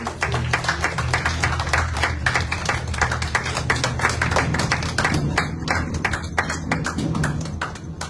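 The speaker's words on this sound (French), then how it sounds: "on va applaudir un peu pour accueillir" A church congregation claps to welcome a guest speaker at a Sunday service, brisk rhythmic clapping in a steady beat, fairly close and lively, thinning toward the end.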